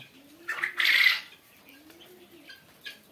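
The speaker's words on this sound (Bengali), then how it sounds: "এইগুলা অরিজিনাল জাপানি কোয়েল পাখি।" Japanese quail at a quail farm holding about 300 egg-laying birds give a few short bright calls and chirps, with a louder burst near the start and softer calls after, no talking.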